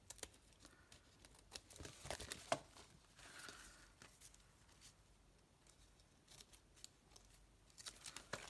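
Quiet snips and crinkles of scissors trimming a sheet of junk mail paper for a handmade pocket folio, a few sharp cuts standing out against soft rustling, close and fairly faint.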